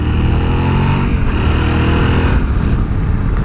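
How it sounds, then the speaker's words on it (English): Engine of a 2020 Yamaha Tenere 700 motorcycle on the move along a road, a steady dense drone with a brief easing near the end, loud and close throughout. "there's that engine noise"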